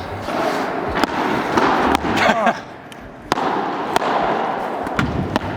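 Tennis balls struck during a training session on court after a long break: sharp, loud, irregular pops roughly one to two seconds apart, over a busy ambient background with occasional voices.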